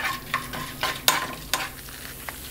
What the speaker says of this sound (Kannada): ಸ್ವಲ್ಪ ಫ್ರೈ ಆಗಬೇಕು ಎಣ್ಣೆಯಲ್ಲಿದು.